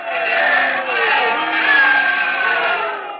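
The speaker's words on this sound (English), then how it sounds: "they're booing it" Boxing crowd booing as fighters enter the ring, a sustained loud mass of jeering voices swelling steadily without a break, in an old radio-style recording.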